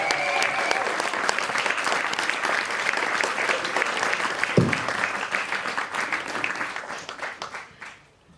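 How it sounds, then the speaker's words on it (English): Crowd applause at a legacy dance showcase at a street dance event, dense sustained clapping throughout with some cheering, fading out at the end. "give a round of applause for Clash, Urban Artistry, Damon Frost, Steen."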